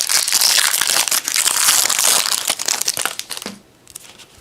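A 2015 Bowman baseball card retail pack torn and crinkled open, loud close foil crackling for a few seconds before the noise drops away.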